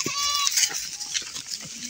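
Goat at a crowded livestock market before Eid, giving a short bleat near the start over a busy background of voices and market noise.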